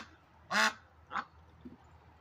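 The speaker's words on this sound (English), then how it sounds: "cleaning themselves while you're quacking." A single duck gives one loud nasal quack followed by two shorter, fainter ones, close and alone against a quiet background.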